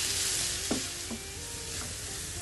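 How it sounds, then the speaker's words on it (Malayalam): Carrot and banana frying in a pan while being stirred, a steady close sizzle with a few soft scraping strokes of the spoon against the pan. "ഇതേ പാനിൽ തന്നെ നമുക്ക് ക്യാരറ്റും ബനാനയും ഒന്ന് നന്നായി ഒന്ന് ഫ്രൈ ചെയ്യാം."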